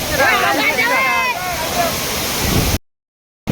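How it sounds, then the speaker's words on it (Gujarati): A natural waterfall at a hill station pours in a steady, full rush of broadband noise that holds for most of the stretch, while voices talk loudly over it before it cuts out abruptly near the end. "આમ જો તમે ખાલી તમે ખાલી ફ્લો પાણીનો ફ્લો જો વોટરફોલ, નેચરલ વોટરફોલ, નેચરલ"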